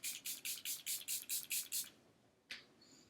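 Charlotte Tilbury Airbrush Flawless setting spray misted onto a face in about ten quick, even pumps, close and hissy, followed by a pause and one final spritz.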